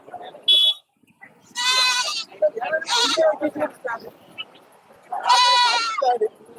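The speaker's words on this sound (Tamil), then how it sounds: "இந்த பட்டியல தான் ஆடே கிடக்கு" Goats at a village goat market in Puthiyamputhur bleat loudly and repeatedly close by while people talk nearby.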